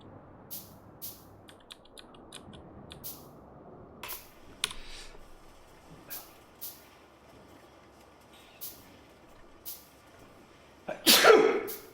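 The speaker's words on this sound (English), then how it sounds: "Good old dad sneezes." A man sneezes in the background, a brief loud burst near the end, after a stretch of sparse clicks and short taps in an otherwise quiet room.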